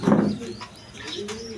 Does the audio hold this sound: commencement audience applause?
no